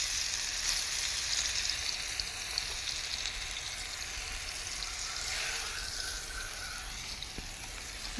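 Boneless chicken pieces frying in hot oil give a steady, loud, close sizzle that holds evenly with no break and no voices.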